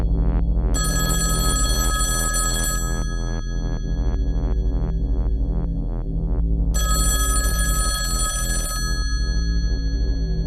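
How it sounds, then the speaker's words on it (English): Telephone ringing, a loud electronic ring in two long bursts separated by a pause, over a steady repeating tonal pulse, with no talking. "are you going to answer the phone?"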